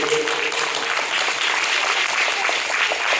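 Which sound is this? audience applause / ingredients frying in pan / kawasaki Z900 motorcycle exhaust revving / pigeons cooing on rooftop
audience applause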